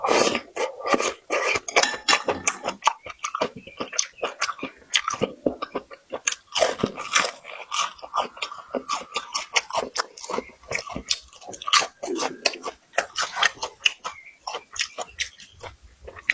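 Crunchy chewing of tender cooked pumpkin vine, close and dry, with a long run of rapid bites and crunches and brief pauses between mouthfuls.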